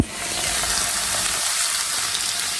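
Onions frying and browning in a pan for curry, a steady broadband sizzle that holds close and even throughout, with no talk.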